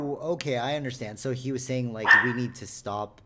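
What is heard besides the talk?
dog barking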